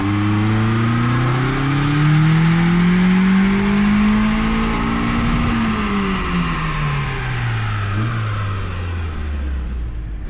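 A 2005 Mazda MX5 Mazdaspeed tuned on Megasquirt is run on a dyno. The engine climbs steadily through a long, loud pull, peaks past midway, then winds back down, with no speech.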